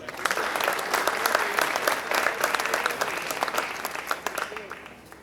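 Sustained applause from a large crowd, dense and steady throughout with scattered individual claps standing out, gradually easing toward the end.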